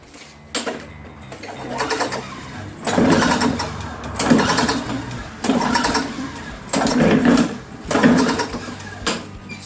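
Old 15-year-old lawn mower engine being started, with a series of pull-start bursts of engine noise repeating roughly every second or two, fairly close and loud, with no one speaking.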